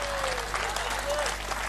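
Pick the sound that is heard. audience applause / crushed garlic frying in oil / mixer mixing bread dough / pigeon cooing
audience applause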